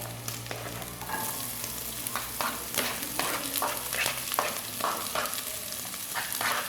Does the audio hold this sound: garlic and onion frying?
yes